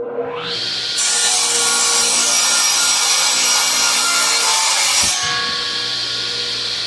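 A power saw cuts through a wooden post for a solar light post project, a steady loud rasping whine of several seconds that starts abruptly and stops with a clunk, with no talk.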